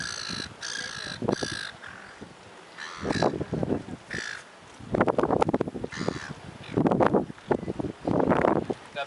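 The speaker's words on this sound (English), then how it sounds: "This is an adolescent Pacific gull just going past." An adolescent Pacific gull flies past at a pelican feeding spot, giving a string of harsh, croaking calls in uneven bursts against gusty wind noise outdoors.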